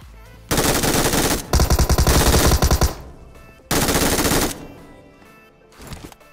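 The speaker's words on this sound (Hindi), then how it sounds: "तो सीधा प्री फायर लेके घुसेंगे बंदे पे" Automatic gunfire in the PUBG Mobile battle royale game, two loud sustained bursts of rapid shots separated by a short pause, with a fainter shot trailing at the end and no talk.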